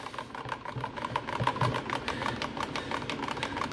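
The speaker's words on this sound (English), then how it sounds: "Then what you do is you whisk the mixture up." A mixture is whisked briskly in a bowl, producing a quick, steady rhythmic ticking and scraping that stays moderately quiet and close throughout.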